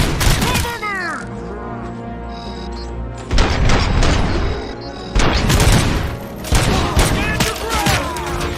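Dense gunfire from a firefight in the video game RoboCop: Rogue City, loud rapid bursts with booming impacts, near and continuous, and shouted voices over the shooting.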